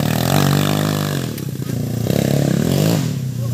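Motorcycle engine revving hard and loud up close, a rough buzzing roar that rises and dips through repeated throttle blips with clattering mechanical noise.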